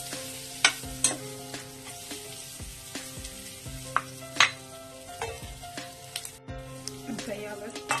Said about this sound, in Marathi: तेलात भेंडी सोडली की छान ते हलवून घ्यायची, म्हणजे सर्व भेंडीला तेल लागेल।